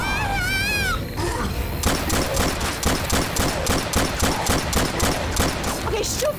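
Sustained automatic fire from Left 4 Dead 2 rattles in regular rapid bursts, loud and close, preceded by a brief high warbling tone and a short lull before the shooting starts.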